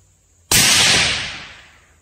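A single sharp rifle shot from a Savage Axis II heavy-barrel rifle in 6.5 Creedmoor, loud and close, with a long reverberant tail decaying over more than a second.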